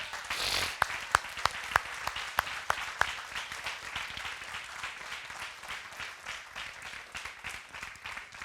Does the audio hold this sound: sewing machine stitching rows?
no